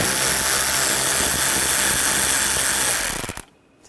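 A power driver fitted with a T20 socket spins out inner wheel well screws on a 2013-2022 Buick Encore 1.4L. It makes a loud, continuous whirring whine for about three seconds, then cuts off sharply into near silence.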